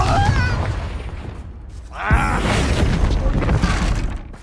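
A Confringo fire spell bursts into a single loud boom partway through Hogwarts Legacy gameplay, with a brief crackling flare over a dense bed of game ambience and combat noise.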